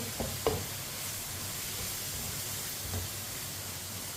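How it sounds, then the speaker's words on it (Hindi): Red lentils and spinach frying in a pan, a continuous soft sizzle and hiss with a couple of faint scraping stirs near the start and later on. "अब इसे 1 मिनट के लिए पका लेते हैं, भून लेते हैं।"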